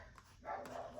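A single short dog bark, faint and somewhat distant, in an otherwise quiet moment.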